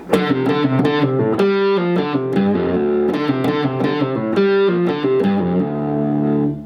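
A distorted electric guitar plays a quick, choppy riff of repeated notes and short chord stabs, loud and close, with no voices.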